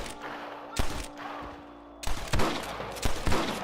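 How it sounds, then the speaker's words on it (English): Gunfire rings out in the western video game Red Dead Redemption, with several sharp shots in quick bursts, some clustered like a volley, over a low ambient game background. "I can hear more gunshots."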